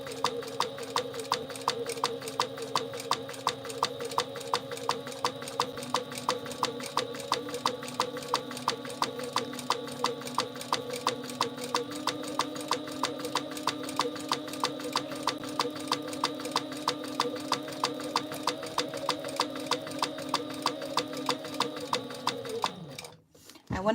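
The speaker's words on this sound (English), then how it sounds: "We're going to just top stitch her." A sewing machine top stitching a quilt with thin thread, running at a fast, even mechanical rhythm for most of the clip before slowing and stopping near the end, with talking underneath.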